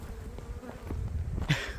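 Bees swarm in large numbers around forest beehives, giving a continuous close buzzing drone. Near the end a brief brushing rustle joins in, and no one speaks.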